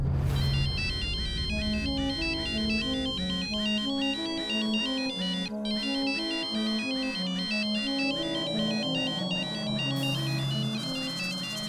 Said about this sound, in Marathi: अहो कधीपासून फोन वाजता हा